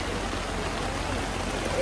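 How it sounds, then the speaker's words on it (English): Heavy rain pours down steadily at an outdoor crochet market, a constant dense hiss of water with no pauses and no voices. "It's pouring down rain."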